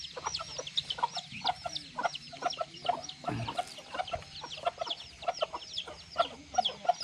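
Chickens clucking in a rural backyard garden, with repeated short clucks and calls in an irregular rhythm at moderate distance over a quiet outdoor background, with no voices.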